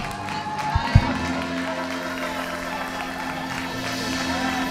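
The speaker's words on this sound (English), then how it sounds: "Clap your hands." A church congregation applauds as a pastor comes forward: a steady, dense wash of clapping from a large crowd, with a couple of sharp knocks near the start and a low sustained tone beneath.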